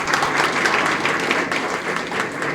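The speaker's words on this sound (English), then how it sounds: "I think we should clap for him." Steady applause from an audience in an institute hall, a dense continuous patter of many hands clapping for a colleague at a superannuation event, evenly loud throughout with no talk over it.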